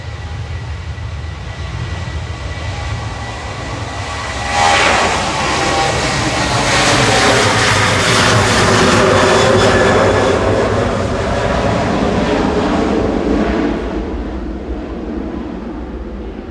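A Jet2 Boeing 737-800 departs Manchester Airport for Mahon: a steady rumble jumps into a loud, broad jet roar that peaks and sustains for several seconds before gradually fading back, with no speech.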